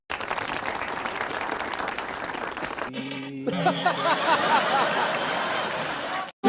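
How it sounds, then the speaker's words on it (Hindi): Short burst of audience clapping and laughter at a comedy show, starting after a brief pause and continuing fairly loud for a few seconds. "चलो ताली बजाने के लिए।"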